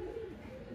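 Pigeons coo softly nearby, a short low throaty call with a faint second murmur, heard alone and fairly quiet.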